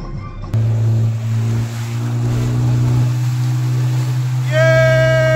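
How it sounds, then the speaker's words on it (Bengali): Motorboat ride on open water on a tour to Messenger, with a steady low engine drone, wind and water wash throughout, and a brief tonal horn-like sound near the end. "আমরা এখন বোট রাইডিং করছি ম্যাসেঞ্জারে।"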